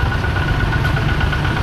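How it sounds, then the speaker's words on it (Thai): A two-wheel walking tractor engine runs nearby in a rural market setting in Laos, giving a steady low, rumbling chug with constant vibration and no pauses over the short stretch. "โอ้นี่รถไถ"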